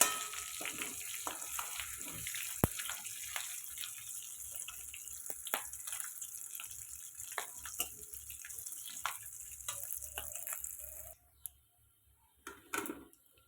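Dried red chillies, cumin seeds and whole garam masala frying in oil in a Bengali kitchen for chicken and potato curry, a steady close sizzle with scattered pops and crackles that cuts out near the end, followed by a few soft clinks.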